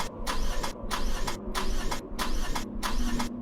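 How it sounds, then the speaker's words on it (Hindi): A car engine cranks repeatedly in five rhythmic bursts, each starter whir cutting off without the engine catching, heard close and alone. "प्रणव ने कई बार गाड़ी स्टार्ट करने की कोशिश की,"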